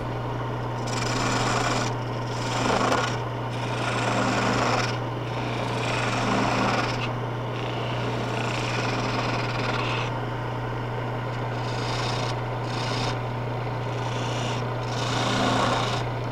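A wood lathe spins a baluster while a cutting tool shears along it, giving a steady motor hum under repeated rasping bursts of cutting that swell and fade in a slow rhythm.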